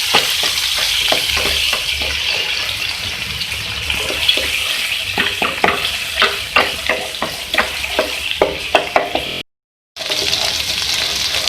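Ginger and garlic frying in hot oil for a karela karahi, a dense crackling sizzle near the mic with many quick spatula clicks and scrapes, briefly cutting to silence near the end.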